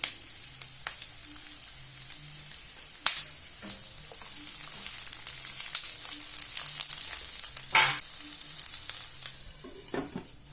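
Onions and bell pepper fry in a pan for a Brazilian fish soup, giving a continuous crackling sizzle with scattered pops and occasional utensil clicks, close and steady, with no speech.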